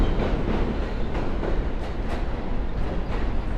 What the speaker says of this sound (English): See the subway going by. This is the N train.